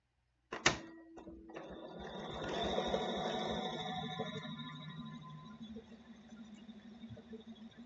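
A BERNINA sewing machine stitches a seam, starting with a sharp click and then settling into a quick, even whirring hum of the motor and needle that slowly fades, close and alone.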